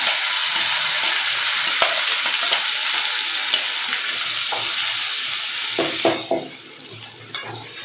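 A thick paste of ground tomato chutney fries and sizzles steadily in a pan, with occasional scrapes and clinks of a spoon stirring, growing quieter near the end.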